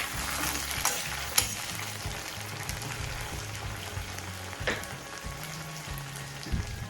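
Onion, green chillies and tomato sauté in a pan for an anchovy curry, producing a gentle, continuous sizzle with stirring clicks and a few louder taps, moderately quiet and with no talking.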